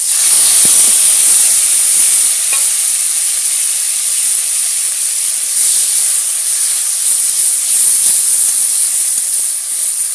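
A paste of ground onion, garlic, cumin and dried chili sizzles loudly in hot oil in a wok, a steady bright hiss lasting throughout with faint crackles underneath.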